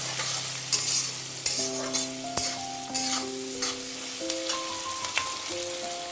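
Onions frying with a pinch of salt in a pan for a hilsa and prawn shapla lati ghonto, with a steady broadband sizzle, repeated stirring scrapes and a few clanks of the spoon, close and alone without voices.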